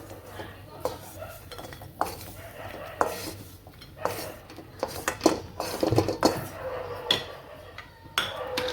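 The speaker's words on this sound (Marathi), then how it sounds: "खोबरं मस्त भाजून झालेलं आहे, काढून घेऊ आता." Roasted coconut scraped out of a pan with a metal spoon, a close series of irregular clinks, scrapes and knocks of utensil on cookware.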